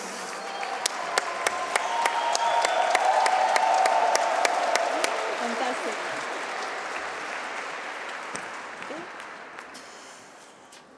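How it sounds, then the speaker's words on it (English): Sustained applause from a large audience at the IHE Delft 2023 graduation and awarding ceremony, rising to a dense peak and then tapering off, with a brief spoken remark over the clapping. "Thank you very much, and a big applause for them."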